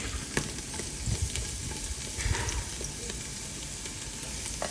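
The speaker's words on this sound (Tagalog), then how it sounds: "Gisa lang natin yung garlic at luya" Garlic and ginger (luya) sauté in a hot oiled pan, giving a steady sizzle with occasional scraping stirs throughout, fairly close and with no talking.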